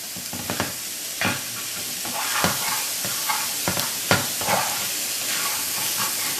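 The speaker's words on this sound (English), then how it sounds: "You're gonna just put them on low heat so they don't stick so much" Paneer cubes toast and sizzle in a pan over low heat: a steady frying hiss runs throughout, broken by occasional scraping stirs and light clinks of the utensil against the pan.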